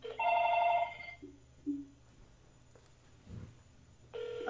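An incoming call rings on a telephone: a loud electronic ring burst at the start, two short softer tones, then quiet before the ring returns at the end, with no talking.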